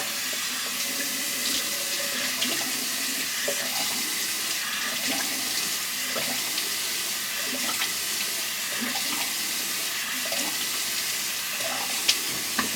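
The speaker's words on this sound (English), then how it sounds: "Now I'm just going to wash off." Running tap water splashing into a bathroom sink as a face is rinsed, steady close spatter with small irregular splashes and a couple of sharper knocks near the end, no talking.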